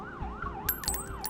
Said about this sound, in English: As the piercing wail of police sirens grows closer, we defeat the last assassin.